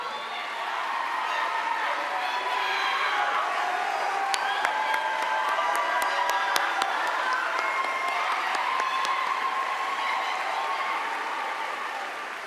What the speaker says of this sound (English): If you guys would stand just so we can give you a round of applause